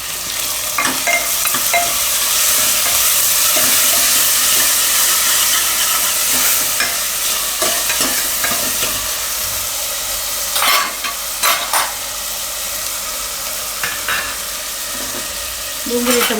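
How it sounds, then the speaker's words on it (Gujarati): Onions and tomatoes stirred in hot oil in a pan for dal palak sambar, a loud continuous sizzle with scraping of a spoon and a few clanks against the pan, easing slightly toward the end. "ડુંગળી ટમેટાં થોડીક વાર આમાં ફેરવી લેવાનું."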